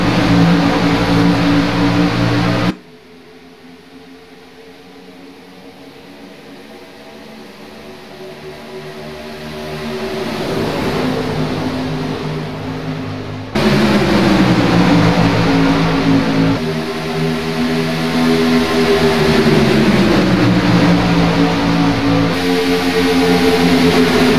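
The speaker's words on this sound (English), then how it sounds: "the sound of 43 cars, well, we don't have that many anymore, but all of them wound up together" Race car engines roaring in a Daytona 500 qualifying duel on a racing video game, a dense field of cars droning loudly, briefly dropping to a muffled hum before surging back to a full, sustained wound-up roar with rising and falling pitch.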